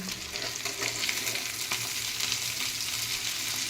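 Food frying in a little oil in a pan, a continuous crackling sizzle with bright spitting throughout, close and fairly quiet, with no talk.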